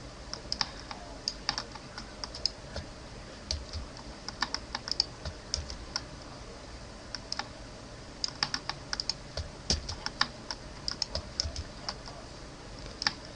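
Keys clatter on a computer keyboard in short irregular bursts of taps and shortcut presses, close and fairly quiet, with no talking.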